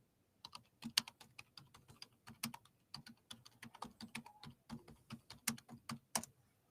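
Rapid, irregular clatter of keys on a computer keyboard while a comment is typed out, close and clear with no talking.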